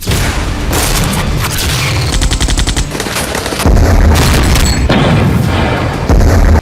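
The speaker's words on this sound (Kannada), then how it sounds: "ಮನೆಯಲ್ಲಿ ಭೀಕರ ಗುಂಡಿನ ದಾಳಿ" Gunfire and explosions during a Taliban–Pakistan border clash: rapid machine-gun bursts mixed with single shots and heavy booms, loud and dense throughout, with no voices.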